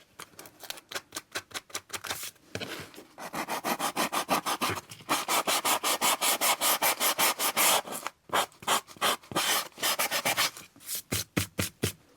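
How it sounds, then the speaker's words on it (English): A hand sander scrubs back and forth along a paper edge in a journal spread, giving a close, loud, rhythmic raspy scratching in steady strokes with a couple of brief pauses and no talking. "Now I'm looking for my sander because I want to sort of take this edge off a little bit."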